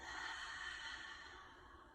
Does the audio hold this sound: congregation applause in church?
no